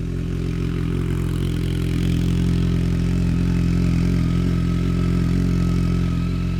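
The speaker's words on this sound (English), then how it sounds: "That's idling better." A BMW K1200R Sport motorcycle engine idles smoothly up close after earlier misfiring, holding a steady, even mechanical hum with no dropouts.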